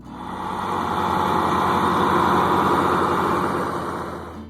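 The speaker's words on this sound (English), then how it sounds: "When the engine starts, the sound is smooth and refined. A deep diesel tone that feels different from the older machines" A John Deere 4010 tractor, built in the early 1960s, runs its diesel engine with a steady, smooth, deep hum that swells in and holds close and continuous before easing slightly.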